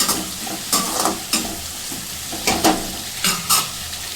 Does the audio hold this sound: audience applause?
no